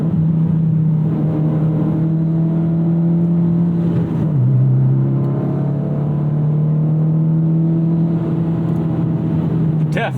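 A Mitsubishi Lancer Evo X GSR engine revs hard under load, climbing uphill toward redline, with a steady loud drone that dips briefly at a shift, then rises again; heard from inside the car with no talk.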